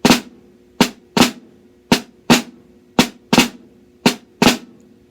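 Crisp drum strokes played as a flam accent rudiment, each hit a quick doubled grace-note-and-main stroke, arriving in a steady, lively pattern of about ten close, loud flams.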